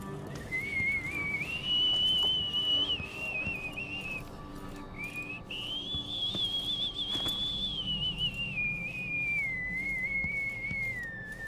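A wavering whistled old tune from Dishonored 2, a single clear melodic whistle sustained across the whole stretch over faint background noise, no talking.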